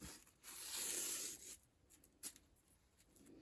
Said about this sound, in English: Put a bit of the masking tape on, like that.